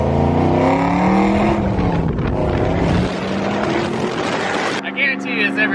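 A Pontiac GTO with Texas Speed headers driving past loudly, its engine note climbing and falling through gears as a heavy, raspy roar that drops away near the end.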